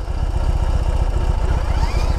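A 2021 BMW R18 motorcycle engine runs close by with a low, steady, throbbing idle and a rapid pulsing beat throughout.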